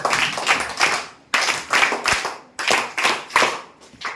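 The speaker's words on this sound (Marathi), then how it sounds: "सावंतने त्याच्यासाठी टाळ्या वाजवा" A classroom of students claps in unison for a classmate, bursts of rhythmic hand claps coming in four short rounds, close and fairly loud with brief pauses between.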